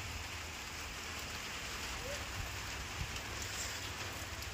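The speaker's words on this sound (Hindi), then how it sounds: "बहुत जोर की बारिश हो रही है।" Heavy rain pours steadily in Bulandshahr district during the monsoon season, a dense continuous hiss of drops hitting surfaces near and far with no break.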